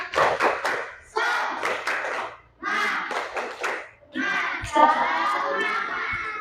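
A classroom group of teacher trainees claps a spirited rhythmic pattern in several bursts separated by short pauses, with voices mixed into the final longer burst.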